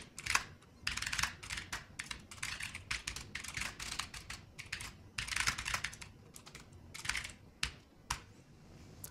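Rapid bursts of keystrokes on a computer keyboard while code is written, close and clear, coming in uneven clusters with brief pauses between runs of typing.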